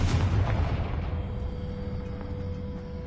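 A Confringo blasting spell in the Hogwarts Legacy video game sets off a single heavy explosion, a deep booming burst that rolls off into a fading rumble over about three seconds.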